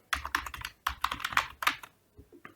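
Rapid keystrokes on a computer keyboard as a web search is typed into a browser, coming in quick irregular bursts with brief pauses, close and fairly clear, with no talking.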